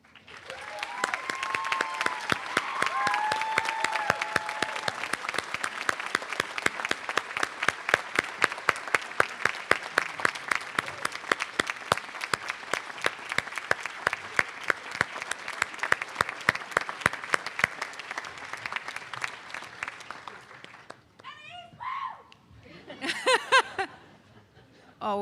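Audience at a Dartmouth Institute class day ceremony applauding award recipients, a long sustained round of clapping that settles into a steady rhythmic beat before dying out, with a little laughter and a voice near the end.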